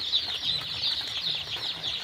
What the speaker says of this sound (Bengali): সোনালী সুপার হাইব্রিড মুরগির বাচ্চা উঠাইলাম